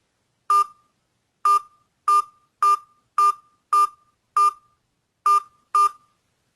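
Keypad tones sound as a number is entered on a phone during an automated provider line call, nine short identical beeps in a fairly even sequence, clear and close with silence between, no talking.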